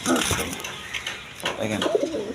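Pigeons coo softly at close range in a loft, with throaty rolling calls overlapping some rustling and light clatter in the background.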